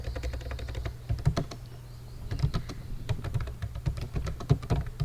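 Steady typing on a computer keyboard while C++ code is entered, with rapid irregular clicky keystrokes in short bursts and a brief pause, close and moderately quiet.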